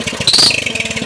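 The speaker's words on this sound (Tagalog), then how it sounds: "Starting the engine." An engine starting up, with a quick run of rhythmic low chugging pulses and a brief higher whine over about a second, close and fairly loud.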